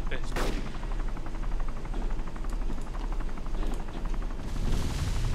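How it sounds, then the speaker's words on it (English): Airstrike explosions in the video game DayZ: heavy, rumbling blasts and a roaring, sustained barrage close by, loud throughout with a low, booming body and voices mixed in beneath. "Goddamn with the airstrike."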